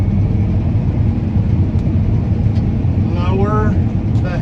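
A combine harvester engine roars at full throttle while harvesting wheat, a loud steady low rumble with a voice talking over it throughout.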